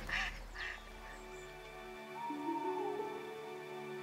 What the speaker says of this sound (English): he heard the call of a wild duck